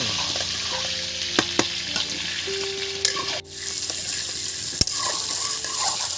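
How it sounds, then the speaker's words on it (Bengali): Whole new potatoes frying in oil for aloo dum, a continuous close sizzle with spatula scrapes and stirring knocks, one brief dip in the hiss midway, no talk. "এটাকে ভালো করে ঘুরিয়ে ফিরিয়ে একদম আমি তেলেতে ভেজে নেব"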